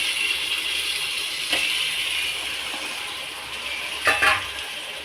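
Six kilos of chicken meat go into a large pot of well-sautéed onion masala for chicken dum biryani, giving a steady broad sizzle with a couple of brief louder stirring scrapes, no talk.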